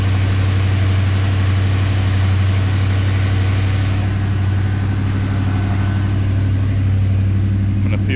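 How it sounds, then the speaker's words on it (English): A car engine fitted with Flowmaster exhausts runs at a steady idle, a loud, deep, even rumble close by that holds for the whole stretch, with a faint sound near the end. "Listen to that engine purr."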